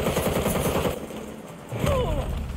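Submachine gun fire in the Gotham Knights video game: a rapid automatic burst rattles at the start, then fades under game sound effects, with a sweeping whoosh near the end.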